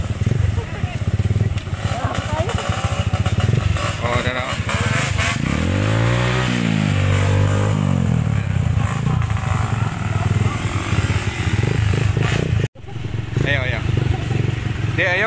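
A motorcycle engine runs steadily and loudly throughout, with rising and falling revs in the middle, heard under speech from people nearby on a ride from Anonang Sur to Little Baguio.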